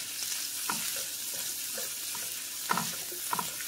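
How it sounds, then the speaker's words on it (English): A pot of Southern fried cabbage and vegetables sizzles steadily while a spoon stirs through it. Soft scraping strokes recur every second or so, up close. "let's stir up these beautiful veggies"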